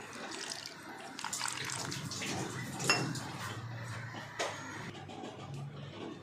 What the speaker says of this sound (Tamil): தண்ணி ஊற்றி கொஞ்சோண்டு மிக்ஸ் பண்ணிக்க வேண்டியதுதான்